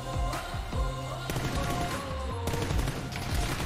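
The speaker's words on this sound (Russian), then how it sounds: "Стрельба, кстати, у него безумная, вот что Сэмки трекает" Rapid bursts of gunfire in a video game match crackle in dense, repeated volleys with sharp shot transients, loud and continuous without talk over it.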